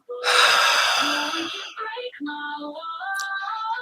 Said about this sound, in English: Take another deep breath in.